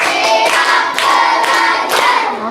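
A class of children claps hands together in counted bursts, loud and close, with several distinct groups of claps separated by short pauses.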